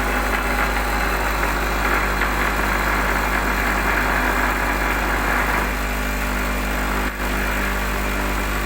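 A three-phase induction motor running steadily on a lab bench, a loud continuous hum and whine with an even tone throughout and one momentary dip near the end.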